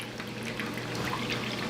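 Soy sauce poured into a pan while cooking Asian garlic pasta, a brief steady liquid pour with a soft sizzling wash, close and fairly loud, no talking.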